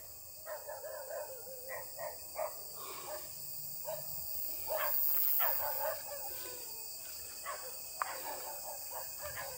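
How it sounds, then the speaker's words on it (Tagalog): Several dogs bark repeatedly at a distance, overlapping in uneven bursts against a steady hiss of background noise. "Nagtatahulan yung mga aso mga idol."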